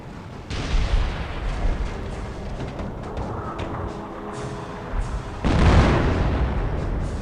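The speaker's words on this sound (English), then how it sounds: "Let's say I want to attack here, and I do the howitzer barrage." Howitzer barrage in Company of Heroes Mobile, a WWII strategy game set at the Battle of the Scheldt: a steady rumble of artillery fire and explosions, with a heavier blast swelling near the end.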